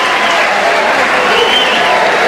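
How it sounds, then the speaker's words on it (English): A Little League World Series championship crowd cheers and applauds after a base hit, a dense, loud, sustained wash of clapping and voices filling the whole stretch. "Now, Penn, that Hawaiian crowd, they've got to be really excited right now"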